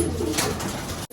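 Low, rolling coos from pigeons housed in a loft fill a brief stretch, a soft continuous murmur that cuts off abruptly at the end.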